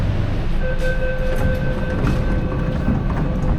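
The loud, steady rumble of a metro train, with a thin electrical whine riding over the rolling noise, heard up close.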